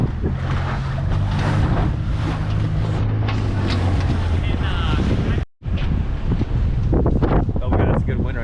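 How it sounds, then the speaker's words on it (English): Strong wind roars across the microphone aboard a J-22 sailboat in a harbor, a loud continuous rushing with water noise and brief voices mixed in, cutting out for an instant before resuming. "that's a good wind right there"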